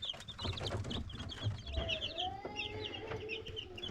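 High, rapid cheeps from a cluster of six-day-old chicks peep continuously, with a low rustling hum underneath.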